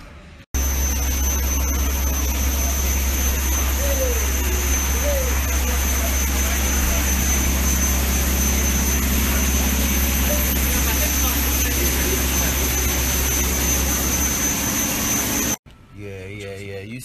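A jet airplane engine with a mechanical issue runs steadily and loudly, a constant roar with a high whine on top, then cuts off near the end; voices come through faintly underneath.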